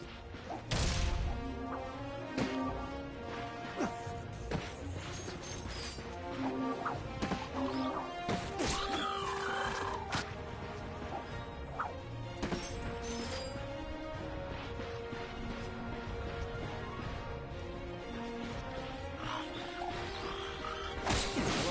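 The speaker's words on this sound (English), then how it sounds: "Look at him smashing crates." Crates being smashed in the Ratchet & Clank video game, a dense run of repeated crashes and thwacks over busy game music and effects, loud and continuous throughout.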